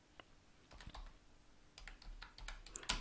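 Fingers typing a message on an iPhone screen, a scattered run of light taps that gets busier toward the end, soft and close with no talking.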